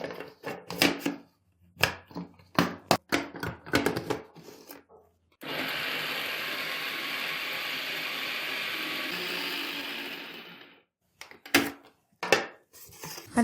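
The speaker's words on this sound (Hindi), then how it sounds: "अब हम चॉप करेंगे।" A hand-pulled food chopper whirs steadily for about five seconds, blades spinning through half a banana dusted with two spoons of cocoa powder, framed by sharp clicks and rattles of the plastic chopper before and after.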